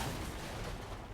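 A ladder shoots out in Death Stranding 2 with a short, dense burst like a gunshot, near and moderately loud, over within about a second.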